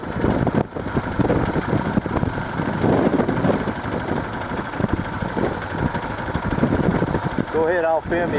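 A motorcycle engine idles and rumbles nearby on a rocky Big Bend desert trail, a steady mid-pitched drone with people talking over it throughout.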